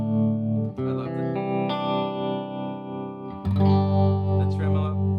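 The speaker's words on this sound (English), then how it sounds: "the tremolo on the Flint" An electric guitar plays sustained chords through a Flint tremolo pedal, the tone pulsing in a steady wavering rhythm, loud and close, with a chord change midway and no talking.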